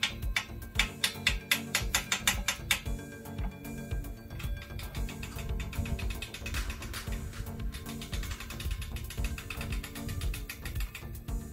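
A ratchet lock on a solar panel mount is released while the panel is lowered. A quick run of loud ratchet clicks comes first, followed by softer, irregular mechanical clatter and creaking as the mount comes down.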